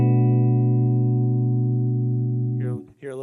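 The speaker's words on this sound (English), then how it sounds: "now I have more of a chorusy reverb type of effect" Sustained guitar chord through a Boss Katana amp head with modulated, chorus-like reverb, ringing loud and steady before briefly breaking off as a new strummed attack comes in near the end.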